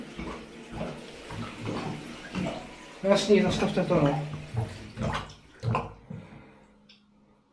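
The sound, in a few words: clogged shower drain gurgling and grunting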